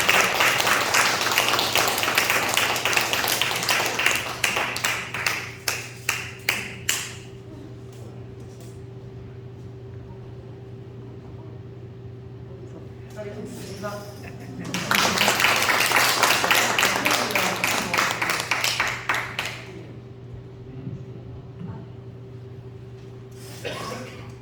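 A church congregation at a Sunday evening service claps in welcome for a newlywed couple about to sing a special hymn, with a burst of applause at the start fading out, then a second round later; room hum underneath.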